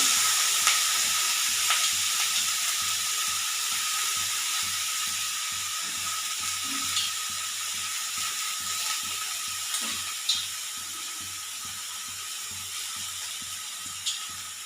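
Finely chopped bitter gourd frying in very hot oil, a steady soft sizzle with faint scraping and stirring clicks from a spatula, close and continuous with no talking.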